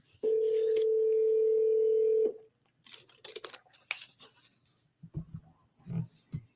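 A telephone line gives one long, loud, steady ringback tone while an outgoing call rings through, then cuts off into faint scattered clicks and low rustling.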